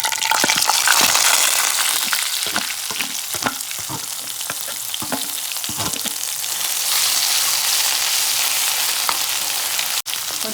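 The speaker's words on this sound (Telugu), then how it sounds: "కొంచెం ఈ మసాలా నూనెలో పచ్చివాసన పోయేదాకా ఉంచాలి." Masala paste of onion, sesame, cumin and fenugreek sizzles steadily in hot oil for chamagadda pulusu, a continuous close frying hiss with scattered spatula scrapes and taps throughout.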